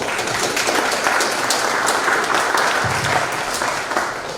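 Sustained audience applause for a lecturer at a conference on Peruvian nobles and caciques, a dense, steady wash of many hands clapping throughout, fairly close and even, with no talk over it.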